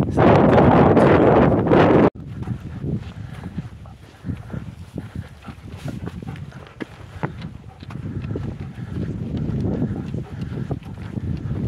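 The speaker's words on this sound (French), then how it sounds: "Et dans les plaines, il n'y a rien pour arrêter le vent." Wind sweeping across open plains in a video game: a loud rushing gust at first, then a steady blustery whoosh with faint crunching steps underneath.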